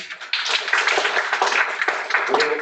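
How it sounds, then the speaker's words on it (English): A seminar audience at a Super Success Saturday event claps for William, a short burst of fairly close, uneven clapping from a modest crowd with faint voices mixed in. "I'll give another round of applause for William."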